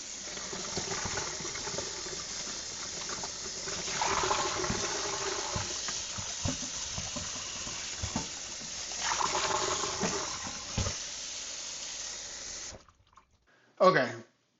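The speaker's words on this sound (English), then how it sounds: "I'm actually going to rinse them and then just put water in them" Tap water runs steadily into a sink while cut potatoes for French fries are rinsed and covered with water, a continuous gushing wash that ends abruptly near the close with a brief clatter.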